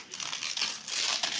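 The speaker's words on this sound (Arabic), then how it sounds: "ماما هتقطع الكيس" A plastic bag holding fesikh, salted fish, is cut open at home, giving a close, continuous crinkling and rustling for over a second, with no talk.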